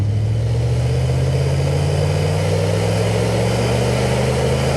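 A 1989 Mercedes 560SL accelerating on a test drive, its engine drone rising steadily in pitch as it pulls, heard from inside the car with constant road and wind noise and no talk.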